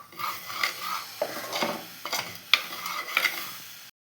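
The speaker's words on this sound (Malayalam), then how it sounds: "ഇനി നമുക്ക് നന്നായിട്ട് ഇളക്കി കൊടുക്കാം." A spoon stirs ground fenugreek and coriander in a pan for fish curry, sending out a series of close, scraping strokes against the metal over a light sizzle.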